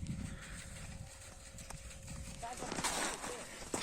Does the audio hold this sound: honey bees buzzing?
no